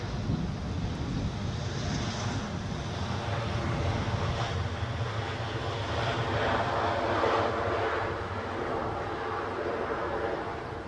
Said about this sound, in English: Taxi back with this, haven't we? Our incoming Bristol A320.